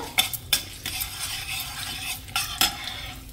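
Urad dal and chana dal frying in a pan, with a soft steady sizzle broken by a few sharp scrapes and clinks of a spoon stirring against the metal.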